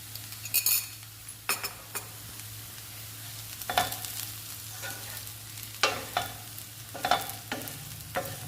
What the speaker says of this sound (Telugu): ఎల్లిపాయ కారము, దొండకాయ ముక్కలు అన్నీ కలుపుకోవాలి